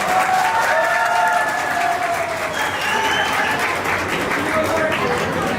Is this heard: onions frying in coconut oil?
no